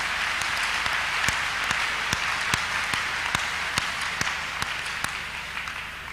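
A church congregation claps during a Thursday counselling and deliverance service, a fairly even round of many hands with some sharper individual claps standing out.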